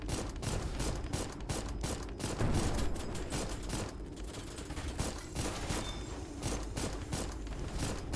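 Rapid enemy gunfire in the video game Mecha Girl Souls, a dense stream of sharp shots and bursts that keeps going steadily with no talking.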